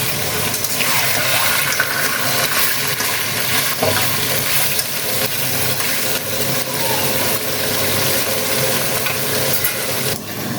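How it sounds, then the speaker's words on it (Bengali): Duck meat sautéed in a covered pan, with a loud continuous sizzle and stirring noise running steadily throughout. "তো দেখো এবার মাংস দিয়েছি, এবার আমি একটু ভালো করে কষিয়ে নেব।"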